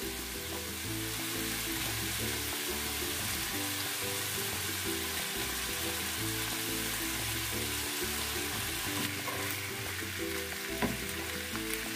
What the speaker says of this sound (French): Maintenant, je viens ajouter mes pommes de terre.